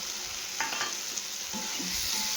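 Chicken pieces fry lightly in a pan with green chili paste and a pinch of sugar, giving a soft, steady sizzle broken by a few brief stirring scrapes.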